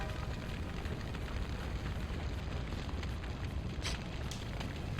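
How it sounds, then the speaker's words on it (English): In the Skies of Arcadia game, a town burns and explodes: a dense, steady roar of fire with rumbling blasts, loud and continuous throughout. "No, it's all on fire."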